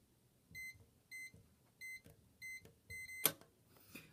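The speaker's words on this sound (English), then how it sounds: "Okay, so you heard the beep." A series of six short electronic beeps from a SentrySafe keypad at a steady pace, each a clean tonal chirp, followed by a brief clunk and a soft rustle.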